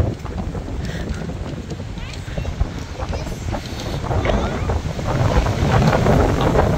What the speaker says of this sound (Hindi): अरे माँ कसम की हवा चल रही है।